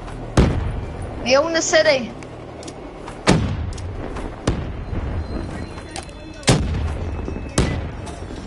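Grenade explosions and gunfire in a PS4 shooter game: several heavy, sharp booms spaced a second or two apart, loud and close, with a voice speaking briefly between the blasts.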